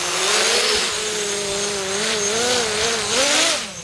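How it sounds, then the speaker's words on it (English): A V-tail Microburst 300 quadcopter with 2208 1100 kV motors on a 4-cell battery throttles up, a loud close whine that rises and falls in pitch as the throttle sweeps, with no voices. "This will be a test of 4 cells on 1100 kV motors."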